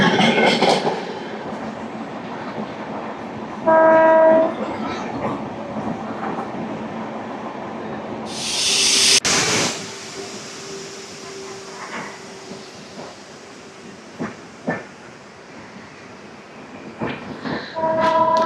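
The Golconda Express passenger train (17201, Guntur to Secunderabad) rolls near Khammam station with a continuous rumble, its horn blaring in loud blasts near the start and again near the end, plus a sharp burst midway.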